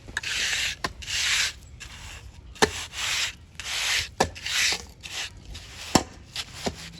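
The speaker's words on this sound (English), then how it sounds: "come back with our trowel and start shaping the concrete" A trowel scrapes and smooths wet concrete along a paver border in a series of rough, rhythmic rubbing strokes with brief sharp knocks between them. The strokes are close and fairly loud, with no talk.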